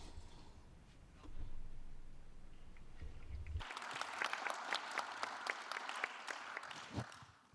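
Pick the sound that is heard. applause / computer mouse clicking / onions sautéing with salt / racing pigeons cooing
applause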